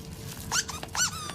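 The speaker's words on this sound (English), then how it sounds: "Dougal, this is a toy for dogs." Squeaky dog toy squeezed twice in quick succession, giving two short, high, wavering squeals over a low background hum, close and clear.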